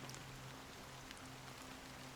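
Gentle rain patters evenly in Honkai: Star Rail, a quiet constant hiss of drops with a low steady hum underneath and no talking.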